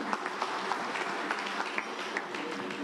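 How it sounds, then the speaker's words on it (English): Audience applause fills a post-budget breakfast meeting, a dense, steady clapping from many hands that holds evenly throughout. "of applause for Tinashe."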